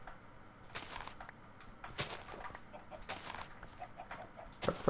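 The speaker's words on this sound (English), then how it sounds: "Chicken." A Minecraft chicken clucks in a few short, quiet bursts over faint game background noise, with no talk.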